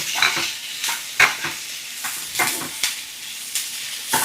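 Beetroot and onion frying in a pan, stirred with a utensil: a steady sizzle broken by a series of sharp scraping strokes at an irregular rhythm, close and fairly loud, with no voices.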